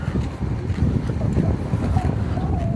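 Strong outdoor wind buffets the microphone at La Baule on the French coast, giving a loud, constant low rumble that fills the whole stretch, with no voices over it.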